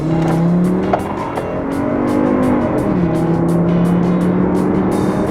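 A Chevy pickup truck runs at wide open throttle, its engine note climbing steadily in a loud, continuous drone heard from inside the cab, with a brief dip as it shifts before winding up again.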